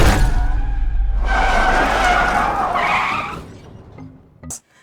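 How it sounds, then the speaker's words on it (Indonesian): Tires screech as a car skids hard in a film scene, a loud sustained squeal that fades out and ends in a sharp thud of impact, with the car striking a man crossing the street. "Carson pun ditabrak oleh mobil yang saat itu melintas"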